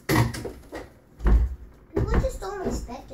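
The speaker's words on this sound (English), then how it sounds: "Close the door, dum-dum." A door in a house swinging shut, with a muffled thud in the middle of the clip amid indoor shuffling and a couple of other knocks, while voices talk nearby.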